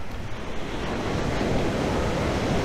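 Ocean surf rolls in with a broad, continuous wash of breaking waves, loud and close, mixed with wind buffeting the microphone.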